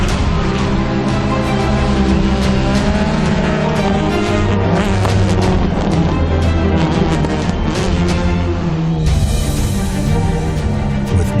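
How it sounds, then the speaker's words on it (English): Two rally cars drift in tandem through the final corners of a rallycross event, their engines roaring loud and close throughout with constant revving and a rising burst of high-pitched engine and tire noise near the end. "David Higgins and Travis Pastrana team up for some tandem drifting through the final corners"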